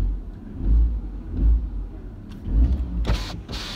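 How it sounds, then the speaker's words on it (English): A car engine rumbles and is revved in a few swells while parked, fairly close, followed by a mechanical whir like a power window near the end. "Okay, let's give her a little rev."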